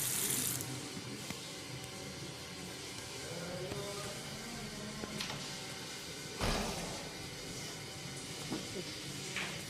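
Water runs steadily from a tap in a hostel bathroom, a continuous close hiss with a few splashes and knocks, no voices over it.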